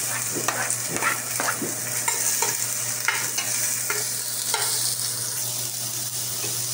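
Onions sauté in a pan with ginger and garlic, a continuous close sizzle and crackle of frying punctuated by repeated scraping stirs, with no talking.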